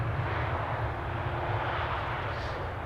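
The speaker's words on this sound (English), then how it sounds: "This is EasyJet arriving from Naples" An EasyJet airliner arriving from Naples at Amsterdam Schiphol roars overhead, a broad, steady engine rumble heard at moderate distance, continuous and without speech.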